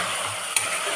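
Onions and sugar fry in hot oil with a steady, dense sizzle throughout, broken by one small knock of a stirring utensil midway.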